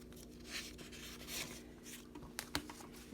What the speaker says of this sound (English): So write the date, and I'm just going to write that it is a deposit.